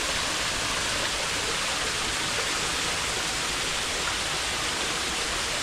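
A waterfall beside a fish pond, flowing in the morning at lower strength than usual, gives a loud, steady, unbroken rush of water that fills the whole stretch with no voices.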